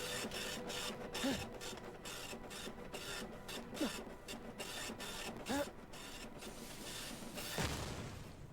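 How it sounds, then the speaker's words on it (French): A petroleum-powered printer printing posters in Borderlands The Pre-Sequel, a repeating mechanical chatter of clicks and thumps that runs in bursts, with louder clunks spread throughout. "allume l'imprimante et elle te crachera tes affiches"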